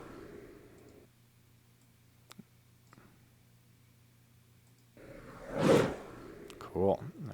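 A roll-by whoosh sound effect, like a skateboard passing, rises out of near silence, swells loudly, then fades, followed by a brief trailing swish.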